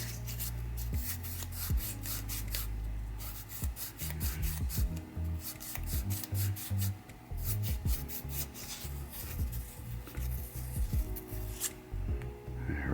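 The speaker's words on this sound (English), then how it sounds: "Get my sandpaper" Sandpaper rubbed back and forth on a metal stepper part from a 1974 Williams Star Action pinball machine, a close, rhythmic run of rasping strokes with brief pauses between bursts.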